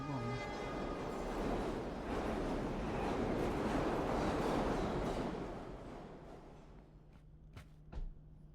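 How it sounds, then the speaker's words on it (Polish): A train rolls past close by with a loud, swelling rumble and rattle that peaks mid-way and then fades, tonal horn-like notes at the start and a few sharp clanks near the end. "O kurwa, pociąg."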